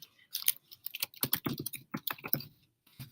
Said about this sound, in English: and type my message.